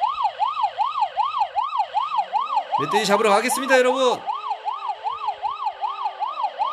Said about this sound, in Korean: 자, 사이렌 키고요.